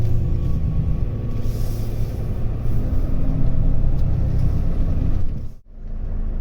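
A Volvo FH 540 truck with a dual-clutch gearbox idles at a red light near roadworks, a steady low diesel rumble with faint hiss that dips briefly near the end before resuming.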